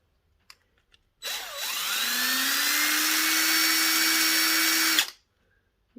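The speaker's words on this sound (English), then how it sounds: "I'm going to try and screw through, see if it lets me" A power screwdriver whirs steadily for about four seconds while driving a screw into a surface, its motor pitch rising slightly as it spins up and then cutting off abruptly, close and loud with no talking.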